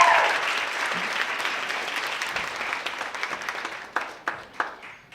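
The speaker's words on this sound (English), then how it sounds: "Please give a round of applause" Audience applause at a women's empowerment expo panel in Los Angeles, a dense burst of clapping that gradually fades and thins to a few last separate loud claps near the end.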